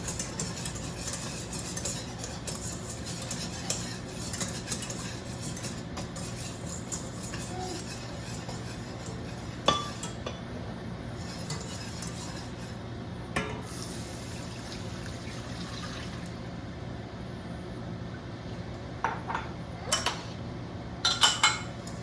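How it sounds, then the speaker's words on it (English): A blonde roux with seasoning and milk is stirred continuously in a pan on medium heat, giving a soft liquid swishing with occasional utensil scrapes and clinks against the pan, steady and close, without talk. "stirring continuously so it doesn't burn"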